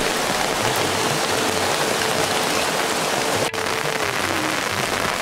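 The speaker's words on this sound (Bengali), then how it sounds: "সকালে আবার আকাশের মুখ যথারীতি ভার, ঝড়ো ঝড়ো বৃষ্টি।" Heavy, stormy morning rain falls continuously on a forest trek toward a camp, a loud, dense hiss and patter with no speech, steady over several seconds.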